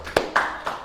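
A few sharp hand claps, about three spaced strikes, fairly close and not very loud, with no voices over them.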